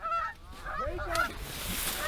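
Geese honking close by during a large goose hunt in New York, several loud overlapping nasal honks over about two seconds, with outdoor background noise.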